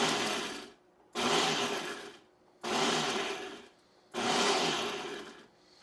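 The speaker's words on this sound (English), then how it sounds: "with the bullet blender, you just stick it on here, lock it in, and then I usually just use the pulse feature" A bullet blender pulses in loud bursts, grinding dried Carolina Reaper peppers into powder: three long whirring runs separated by short pauses, close and without talk.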